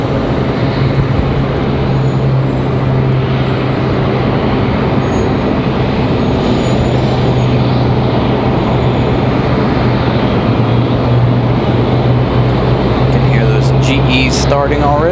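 An Air France airliner being pushed back at Raleigh-Durham airport, its engines a loud, constant broadband roar with a steady low hum throughout, and faint higher whines creeping in near the end.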